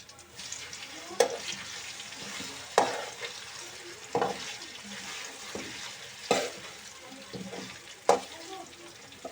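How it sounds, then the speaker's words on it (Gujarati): Marinated chicken and green onions fry in a hot pan under a steady sizzle, while a spoon scrapes and stirs in regular strokes roughly every second and a half, close and fairly quiet. "આવી રીતે આપણે નાખતા જઈશું અને હલાવતા જઈશું"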